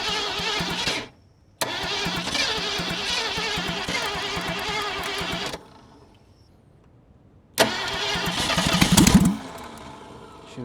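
A 1979 Ford Mustang Ghia Foxbody, abandoned over twenty years, being cranked and run with its engine sputtering and backfiring through the carburetor; rough running bursts broken by silent gaps, then a restart with a loud pop.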